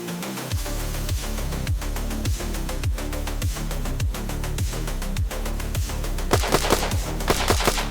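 Rapid series of suppressed rifle shots fired through a Zerosound TITAN MINI BRAKE II sound moderator, about a dozen evenly spaced, loud close reports with a sharper, denser burst of cracks near the end, no talking.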